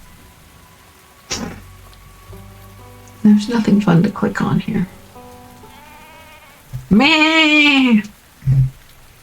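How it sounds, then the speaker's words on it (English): Steady in-game rain patters under a video game's sounds, with a person talking over it and short cheerful game voice and jingle effects cutting in. "it's still raining"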